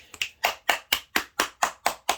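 Hands clap steadily about nine times in an even, moderately quick rhythm, each clap sharp and close with short gaps of quiet between.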